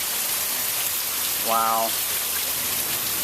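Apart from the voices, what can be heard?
heavy rain pouring onto a patio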